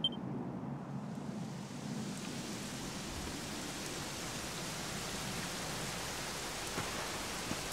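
Steady rainfall in the video game Dragon Quest XI hisses evenly throughout, a dense wash of drops with a faint low rumble at the start, no voices.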